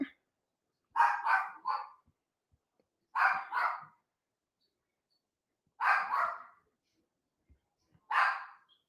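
A dog barks in four separate bursts, each a quick double or triple bark, with pauses of a couple of seconds between them.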